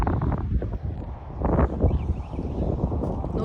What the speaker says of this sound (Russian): Ну вот здесь уже смотрите ветер